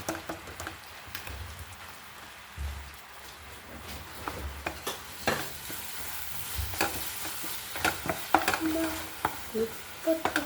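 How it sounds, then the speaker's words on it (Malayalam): Grated coconut goes into a hot pan with cardamom seeds and gets stirred, sizzling softly with scraping spatula strokes and rapid crackling that grows busier toward the end. "ചൂടായിട്ടുണ്ട് കേട്ടോ നമുക്ക് അതിലോട്ട് തേങ്ങ ഇട്ട് കൊടുക്കാണ്"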